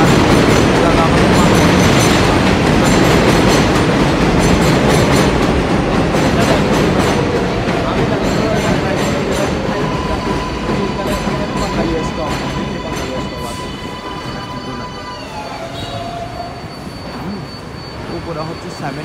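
A New York 7 subway train passes at Jackson Heights, loud and close with a steady rumble and clatter of wheels on rails. It fades gradually, and high metallic squeals and tones rise near the end.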